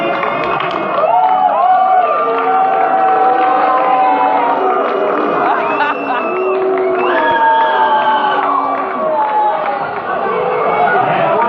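A large boxing arena crowd roars and cheers continuously, with whoops and dense chatter layered over a sustained, loud wall of voices.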